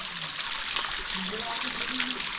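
A mountain spring stream in the Konkan forest during the monsoon, running full after the rains, gives a steady close rushing and trickling of water that carries through the whole stretch, with faint low voice-like murmurs underneath.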